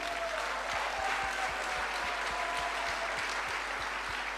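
An audience at a business seminar applauds, a dense, even wash of clapping holding steady at moderate level throughout, with a faint regular low thump running beneath it.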